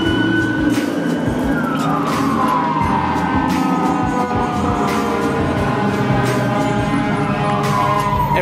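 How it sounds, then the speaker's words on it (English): Fire engine sirens wail on a Los Angeles street, loud and near, with sweeping tones that slide downward as the trucks pass, over steady traffic rumble and without any talking. "Every time I hear fire sirens"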